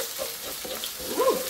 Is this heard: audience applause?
no